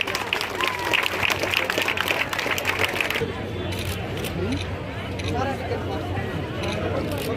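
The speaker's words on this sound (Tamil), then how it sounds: "காவல்துறைக்கு இந்த கைத்தட்டு பத்தாதுன்னு நான் நினைக்கிறேன்" Crowd applause for the police at a Chief Minister's Cup closing ceremony led by the district collector, a dense burst of clapping at first that drops away after a few seconds, leaving murmuring crowd noise and voices.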